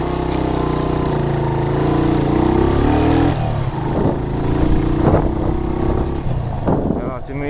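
A 250cc motorcycle engine running close by, a loud steady mid-pitched drone with a rising rev in the first few seconds, then settling into a rougher idle with irregular pulses.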